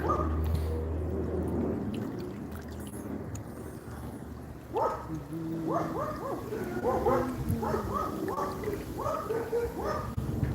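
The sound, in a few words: dogs barking next door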